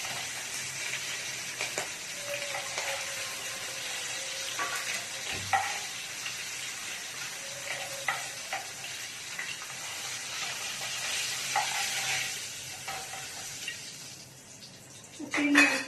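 Fish heads sizzle steadily in hot oil, salted, in a home kitchen, with occasional clinks of a utensil against the pan and a brief scrape near the end.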